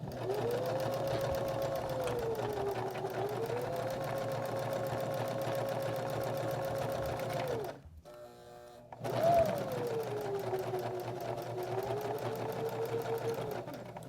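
A sewing machine stitches a fabric drawstring bag in two long steady runs, its motor whirring with a gliding pitch, broken by a short pause as the presser foot is lifted and the project turned.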